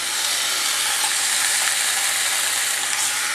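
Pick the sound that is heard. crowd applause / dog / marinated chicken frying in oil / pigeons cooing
marinated chicken frying in oil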